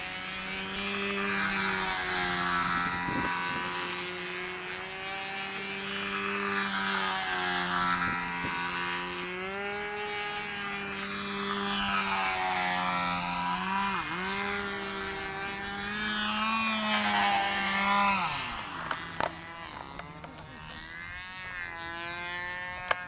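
A model plane built in the style of a PT-19 or PT-22 double open-cockpit trainer flies at a model airplane nationals event. Its engine drones steadily and buzzes loudly overhead, the pitch rising and falling as it passes.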